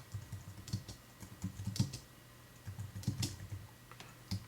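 Typing on a computer keyboard while entering text into the Moovly editor, a steady run of light clicking keystrokes in short bursts with brief pauses, close and fairly quiet, no voices.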